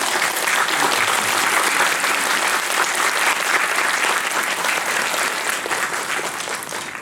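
An audience at a film screening Q&A at the Jeonju International Film Festival applauds: loud, dense, sustained clapping from a full room that eases slightly near the end.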